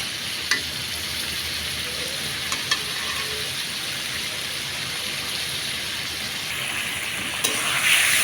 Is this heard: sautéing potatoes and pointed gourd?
yes